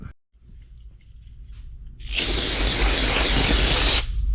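Brake cleaner bursts from an aerosol can in one loud, close, continuous hiss lasting about two seconds before cutting off, with quiet shuffling beforehand and no talk.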